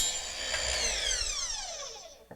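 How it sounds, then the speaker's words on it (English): A cordless saw makes a 45-degree cut through aluminum fabric-mounting frame track, a steady loud high whine that winds down in falling pitch after the cut, ending with a small click. "now we're going to go ahead and make the 45-degree cut on the cordless saw here"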